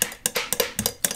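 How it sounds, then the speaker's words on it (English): Spoon clinks against a glass as lemon juice is stirred into a drink, about six quick bright taps in an uneven rhythm, close and clear with no talking. "Let's just give this a stir"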